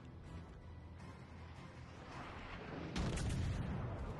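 Naval guns fire from warships in a World of Warships: Legends battle, Britannia among them: soft distant booms at first, then a louder heavy salvo near the end over a constant low rumble, with no talk.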